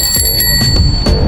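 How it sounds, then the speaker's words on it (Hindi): A bicycle bell on a bike in Amsterdam rings with bright, sustained metallic tones and several quick repeated strikes, loud and close over low street noise. "ये देखें घंटी की आवाज़ है आपको, ये देखें घंटी"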